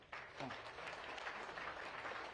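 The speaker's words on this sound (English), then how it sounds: "You can clap for this all." An audience claps at a political seminar, a steady spatter of applause from a crowd that runs the whole time, with a faint voice briefly audible underneath near the start.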